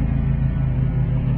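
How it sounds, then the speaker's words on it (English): A neighbor's lawnmower drones steadily in the background out in the countryside, a continuous low engine rumble with no pauses and no talk. "I don't know if you can hear that lawnmower in the background"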